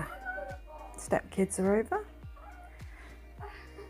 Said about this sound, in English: Just excuse the noise in the background, it's my kitty cat